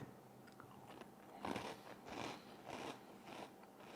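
Crunchy fried Thai rice crackers topped with watermelon juice are bitten and chewed close up, giving several loud crisp crunches in bursts over a quiet background, with no talking.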